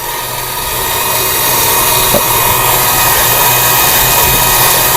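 A small electric slicer machine cuts apples with a loud, continuous high whine that swells in the first second and then holds steady, a faint tick in the middle, with no talking over it.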